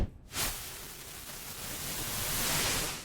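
A broad, hissing synth fireworks burst on an Iridium synthesizer with chorus effect swells after a brief pause, a swirling, whooshing, flanging wash that sustains and slowly builds.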